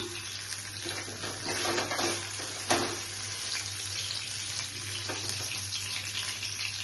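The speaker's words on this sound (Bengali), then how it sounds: "লাইটলি ফ্রাই করছি, বেশি ডিপ না" Paneer pieces fry lightly in a pan with a soft, steady hiss. There are a few brief clinks and bursts of sizzle, and the sound stays faint and close with no talking.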